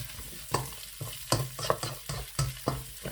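Capsicum, onion and carrots soften in a pan for chicken Manchurian, a soft frying hiss broken by regular scraping stirs roughly every half second, close and fairly quiet.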